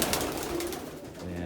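Pigeons coo softly in a loft that is being rearranged, a low murmuring call heard alone at close range.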